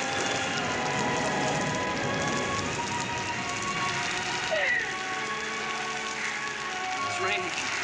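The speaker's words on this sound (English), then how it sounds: "It's raining." Steady rain patters down continuously, a dense hiss of drops on a surface, with faint voices and music murmuring underneath.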